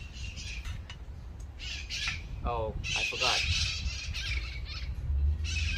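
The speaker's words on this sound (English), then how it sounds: "Hey, parrots." Parrots give loud, harsh squawks outdoors beside a Mercedes Sprinter van while a Flatline VanCo roof rack is being installed. The calls come in a short burst midway, over steady background noise, and a person speaks briefly.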